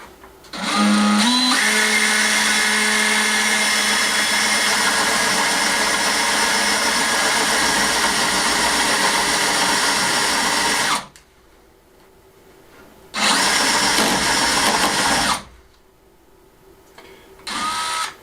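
A power drill bores through a handmade wooden door in an old corral, whining loud and close in one long sustained run, then in two shorter bursts separated by quiet pauses.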